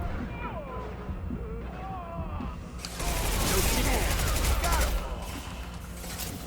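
Gunfire from armor-piercing ammo in Mass Effect 2, a dense fusillade of rapid shots in combat. Quieter scattered shots give way to a loud sustained burst midway, then ease off, with voices talking.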